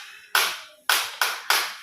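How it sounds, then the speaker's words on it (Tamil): Four sharp, hollow taps on a homemade balloon drum's taut membrane, each with a short ringing decay, struck in an uneven rhythm, close and fairly loud. "இது ட்ரம்ஸ் மாதிரி சவுண்ட் வரும்."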